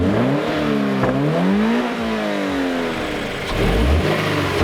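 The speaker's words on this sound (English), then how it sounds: "the engine has a really nice intake or induction thrum" A 2020 Toyota 86 Hakone Edition engine revs hard under full throttle, its intake thrum rising and falling through several climbing sweeps, loud and close with a metallic edge.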